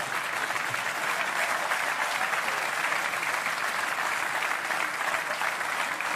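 A comedy show audience breaks into sustained, even applause that fills the room, a dense wash of clapping with no break and no voices on top.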